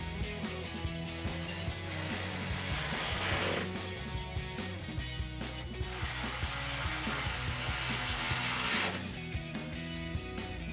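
A ratchet with a 10mm socket tightens the rear isolator bolts on a Magnaflow exhaust system under a 2015-2024 EcoBoost F-150, clicking in rapid, close repeated strokes with brief pauses between runs.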